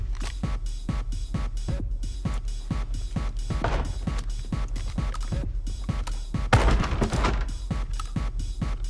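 Shotgun blasts boom in steady, rapid succession, about two per second, in the zombie survival game Project Zomboid, loud and close, with no voices.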